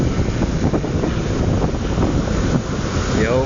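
Pacific Ocean surf rolling onto a beach where a sand castle is being built, a steady broadband wash of waves with strong wind rumble on the microphone, continuous and close throughout.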